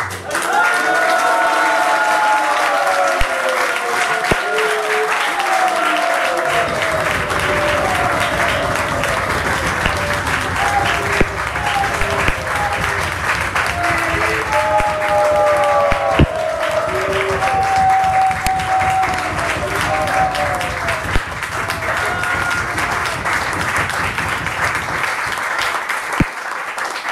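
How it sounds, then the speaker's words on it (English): Sustained applause fills a convention hall, a dense steady wash of clapping from a large audience lasting throughout, with some cheering voices and faint tonal sounds mixed in. "So that's a round of applause."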